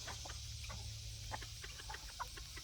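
Chickens and roosters clucking softly in a farm coop, scattered low clucks and brief calls over steady background hum, fairly faint and without talking.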